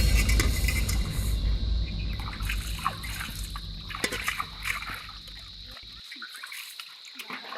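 Water left running from a tap, a steady trickling and splashing flow that carries on throughout, fading a little toward the end, with faint background noise and no one speaking.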